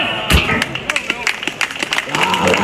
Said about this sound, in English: Round of applause, thank you very much there